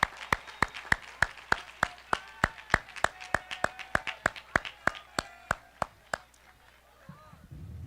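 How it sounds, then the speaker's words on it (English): Graduation audience applauding a high school choir in a large hall, a steady run of sharp, loud claps about three per second that stops abruptly near the end, leaving quiet room noise. "Let's have another round of applause for the Southern Airs and Choir Director Carol Stenson as they performed this afternoon."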